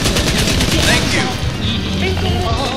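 A heavy machine gun fires in War Thunder, a rapid, loud burst of rattling shots that continues through the whole stretch, with chirpy game effects over it.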